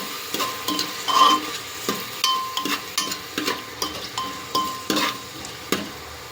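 Finely chopped onions sizzle in a pan for a Gujarati green pigeon pea khichdi, with a spoon stirring and scraping in a steady series of taps over the frying hiss.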